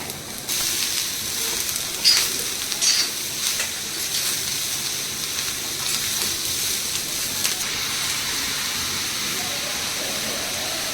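Onions frying in a pan while making Malvani masala: a continuous bright sizzling hiss, close and fairly steady, with a few louder crackling bursts early on.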